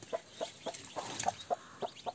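A broody hen clucks inside a chicken coop with newly hatched chicks: about eight short, evenly spaced clucks, moderately close and fairly soft, with no talking.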